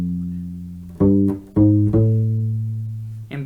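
A few low, sustained notes plucked on a U-Bass in a slow, spaced reggae rhythm, each ringing out before the next, with no voices.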